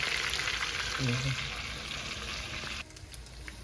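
Onions browning in oil in a pot, a steady loud sizzle and crackle of frying that drops off sharply near the end, with faint clinks afterward.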